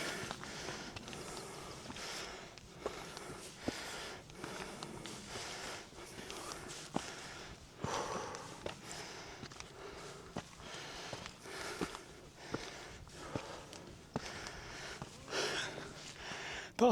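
A hiker on a long climb around Pendle Hill breathes hard in quiet, rhythmic huffs and sniffs alongside crunching footsteps, close to the microphone, with no talking.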